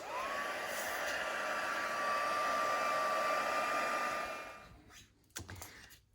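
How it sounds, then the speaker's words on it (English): A heat tool melts white embossing powder on a sunset-scene card, its steady loud hairdryer-like roar blowing for about four and a half seconds before switching off, then a few faint handling clicks. "we're going to heat it with a heat tool"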